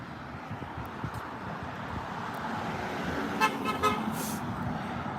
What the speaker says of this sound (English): People honking.